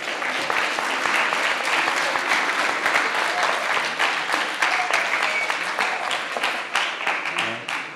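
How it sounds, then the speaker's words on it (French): Loud, continuous applause from an audience at an innovation event, many hands clapping densely for several seconds before easing slightly at the end. "On va applaudir."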